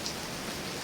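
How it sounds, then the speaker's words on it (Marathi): Rain falls after two motorbikes, a Yamaha MT15 and a Bajaj Pulsar 150, were washed, a brief, even wash of patter. "क्लिनिंग केल्याच्या नंतर पाऊस आला"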